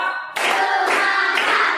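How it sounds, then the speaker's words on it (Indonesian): Classroom of students doing a counted clapping routine with their teacher, a voice speaking and then a burst of group claps arriving in short regular beats, close and loud. "Tepuk fokus. Coba tepuk 1, tepuk 2, tepuk 3"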